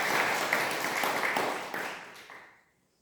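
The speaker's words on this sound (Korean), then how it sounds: "우리 한번 박수를 하면서" A church congregation claps together during a Korean Sunday worship service, a dense burst of applause that holds steady for a couple of seconds and then quickly dies away to silence.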